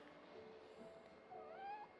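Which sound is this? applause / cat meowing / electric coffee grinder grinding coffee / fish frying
cat meowing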